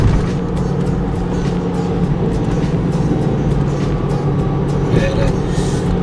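A car idles with its automatic gearbox in L, a steady low drone with gearbox noise running underneath, fairly loud and close, without speech.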